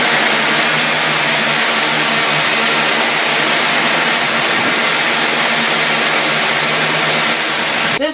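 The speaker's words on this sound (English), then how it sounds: "This is literally a flying bike." A propeller-driven flying bike drones loudly and steadily, a close, constant whine and buzz that holds for several seconds before cutting off abruptly.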